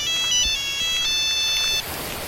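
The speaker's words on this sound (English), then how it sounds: "I'm getting another phone call." A video game phone ringtone plays a steady electronic multi-tone trill for nearly two seconds, loud and clean, then cuts off into quieter background sound.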